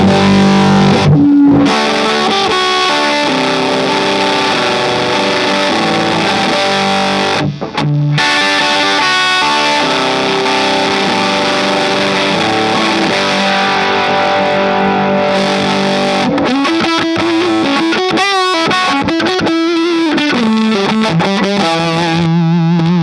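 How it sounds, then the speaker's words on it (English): Les Paul electric guitar with humbucker pickups played through a 65Amps fuzz pedal at a trade show, loud saturated fuzzy chords and riffs with brief pauses, ending in a run of choppy staccato notes, no talk. "Chance we can hear it with the Les Paul going into it, so we can hear what it sounds like with humbuckers."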